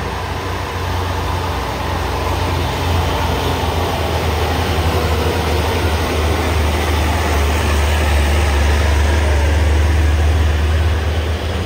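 A truck reversing on a hillside road, its heavy engine revving in a loud, continuous low rumble that holds steady throughout without a break.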